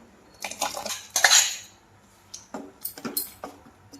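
A metal spoon stirs cooked, ground dal into drumstick pulusu in a pot, giving several clinks and scrapes against the pot in uneven bursts with short pauses between them.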